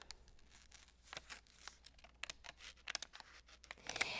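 Scissors cut paper eye shapes for photo booth props, giving a series of quiet, close crisp snips and crinkles in an irregular rhythm, with no talking.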